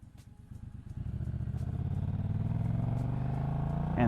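A 2022 Triumph Street Twin motorcycle engine rising in pitch and loudness as it accelerates, a steady close rumble building over a few seconds with no talk.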